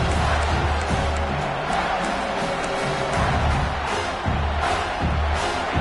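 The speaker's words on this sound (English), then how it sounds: "this big crowd doing everything possible to inspire this defense down here near the goal line" A big stadium crowd at a college football game roars steadily as the defense holds near the goal line on third down, a dense, loud, continuous wall of cheering with no break.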